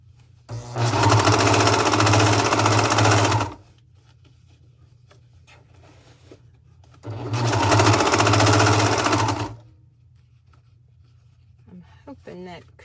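A sewing machine stitches through a thick section of a pants seam in two loud, close runs of steady mechanical whirring, with quiet pauses between them.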